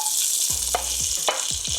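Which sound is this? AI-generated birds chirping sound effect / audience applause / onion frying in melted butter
onion frying in melted butter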